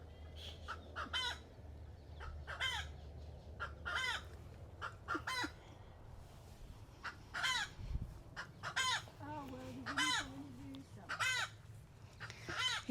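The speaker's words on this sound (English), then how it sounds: "Please excuse the chicken." A chicken on an allotment clucks and calls repeatedly close by, in a run of sharp bursts with low background hum, while a person speaks briefly.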